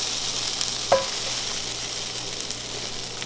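Bread frying in a pan for mole hisses in a steady, even sizzle, with one brief clink of a utensil early on and a low hum underneath, no voices.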